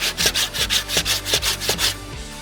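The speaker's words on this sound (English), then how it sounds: "We will let it dry and then go back to sanding." Rhythmic sanding strokes rasp back and forth over filler on a 3D-printed helmet, about eight quick even passes, close and clear with no talking.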